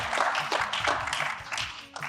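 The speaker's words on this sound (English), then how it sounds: "A big round of applause for our panelists." Audience applause for conference panelists, a scattered round of clapping from a modest crowd, steady for about two seconds with a brief voice underneath.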